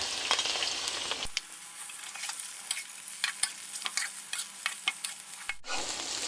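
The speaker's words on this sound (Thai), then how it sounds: "เริ่มหอมแล้วก็ใส่กุ้ง ใส่กุ้งลงไป" Loud, steady sizzling of shrimp and garlic frying in a hot wok, with scraping and stirring clatters throughout and a brief sharp knock near the end.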